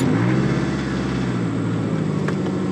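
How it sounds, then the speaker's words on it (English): Several cars pass by in steady traffic, a continuous broadband road rumble with a sweeping engine drone that fades slightly toward the end, with no talking. "there's a bunch of cars going past"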